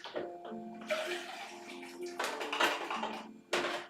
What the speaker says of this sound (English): Just need to get some fresh water, some more water in my water thing